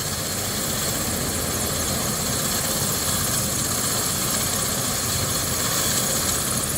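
A hospital helicopter idles on a rooftop helipad in Brunswick, Georgia, giving off a steady, broadband turbine whine and rotor rush that holds constant and close without any breaks.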